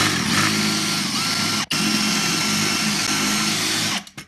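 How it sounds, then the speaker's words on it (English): Power drill drilling out a rivet on an aluminium portable promotional banner, a loud continuous high whine with a brief stop partway, then winding down at the end. "So the easiest way it should be, hopefully, will be to drill that out."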